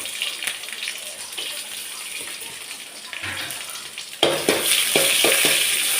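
Mustard seeds, fenugreek, dried red chilli and onion sizzle in hot oil for a tempering, a steady close frying hiss that grows suddenly louder and crackles more as ingredients hit the pan partway through.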